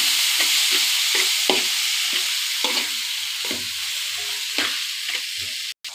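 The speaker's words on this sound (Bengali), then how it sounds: "এখন সুন্দরভাবে নেড়ে চেড়ে নেব।" Mashed taro frying in pickle oil in a pan and being stirred, giving a steady high sizzle with repeated scraping strokes of the spoon at an even rhythm, close and clear with no talking.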